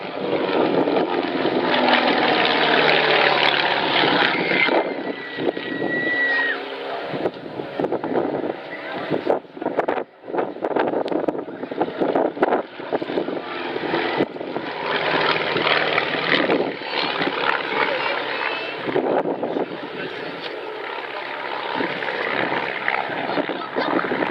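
Light RV aircraft flying in formation at an air show, their propeller engines droning loudly and steadily with wind buffeting the microphone, the sound dipping briefly midway before swelling again.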